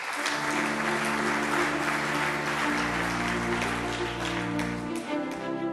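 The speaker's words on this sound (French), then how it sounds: "Quelques applaudissements. Elle fait sa montée sur scène." Applause at a conference as a journalist walks on stage, sustained steady clapping from an audience under a held musical tone that shifts pitch midway, continuing without pause.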